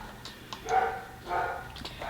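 Several dogs bark indoors in short bursts at medium distance, with yips and whimpers in between, clear and without talking.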